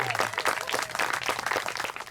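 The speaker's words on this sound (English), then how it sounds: "Everybody, let's give a big round of applause to everybody who made this happen." Crowd at a march applauding the marchers, a dense burst of clapping with scattered cheers, brief and fairly close.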